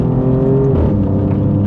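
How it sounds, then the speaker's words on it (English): An Alfa Romeo Giulia Quadrifoglio accelerates, its exhaust giving a loud, steady engine drone that rises slightly in pitch, heard from inside the car. "the sound we got out of this exhaust is pretty good because it's not so loud and annoying"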